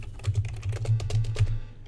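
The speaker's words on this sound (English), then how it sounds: "You're going to hear me pound the keyboard a lot because this is an old text parser game." A computer keyboard is pounded in fast, uneven bursts of typing while playing the old text parser game Quest for Glory, the clacks crisp and close over a low steady hum.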